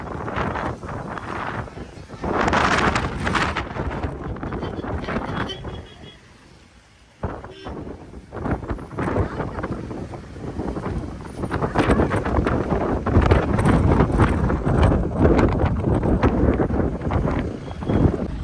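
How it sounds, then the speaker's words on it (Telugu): Strong wind at Dhanushkodi, Rameswaram, buffets the microphone in loud, roaring gusts that ease briefly partway through and then build again. "బయట గాలి మాత్రం విపరీతంగా పెడుతుంది"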